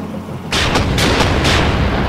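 Naval gunfire from ships in the video game Carrier Command 2 arrives as a dense, booming barrage of overlapping heavy blasts, loud and continuous after a brief low rumble, with no talking.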